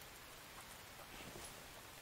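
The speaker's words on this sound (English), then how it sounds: "it should start filling up with the rainwater since it's currently raining" Steady rain falls in a survival video game, a faint, even patter that holds for the whole stretch with no voices.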